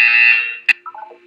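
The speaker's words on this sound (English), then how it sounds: "You will hear a buzzer." A harsh electronic test-chamber buzzer from the video game Portal 2 sounds once, loud and sustained, then fades. A short click and a few descending electronic blips follow.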